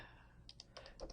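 Several quick, faint keystrokes tap on a computer keyboard in a brief irregular cluster, close by and quiet.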